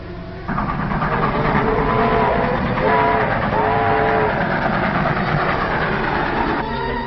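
A train rumbles along steadily with rhythmic wheel clatter, and a horn sounds partway through, close and fairly loud; heard in an old film serial.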